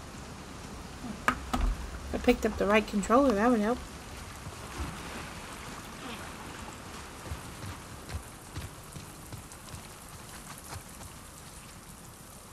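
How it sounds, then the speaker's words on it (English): Rain falls steadily in the video game The Last of Us Part II, a continuous patter of drops on surfaces that runs throughout. Someone speaks briefly over it near the start. "Let's get out of the rain."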